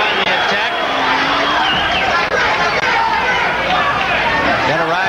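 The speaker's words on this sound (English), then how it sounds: "Got a rise from the partisan crowd" A partisan boxing crowd in Philadelphia roars and chatters steadily at a bout, with a dense, loud hubbub of many voices reacting to an exchange throughout.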